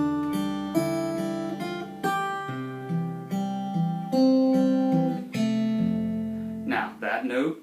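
Acoustic guitar picking measures 9 and 10 of the traditional tune The Water is Wide, a slow melody of plucked notes over low bass notes, close and clear, ending with a brief voice.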